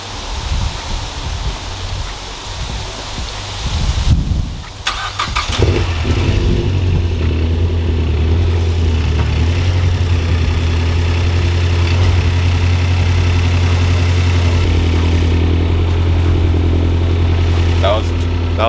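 A Mazdaspeed3 car fresh from a new turbo install cranks over after a brief lull, then settles into a steady, loud idle that drones on without break, with a little handling noise near the start.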